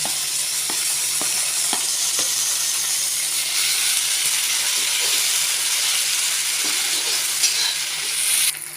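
Onions, garlic and freshly added chopped tomato sizzle in a pan for restaurant-style masala bhindi, a loud continuous hissing fry with faint utensil taps early on, close and steady throughout.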